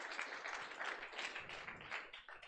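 Steady applause from a conference audience at a diversity event's lightning talks, dense overlapping claps filling the room at even loudness for a couple of seconds.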